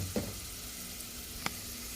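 Fried rice with vegetables, onion powder, curry, thyme and cayenne pepper being mixed in a pan: a steady, fairly quiet sizzle broken by two sharp spoon knocks, one early and one late.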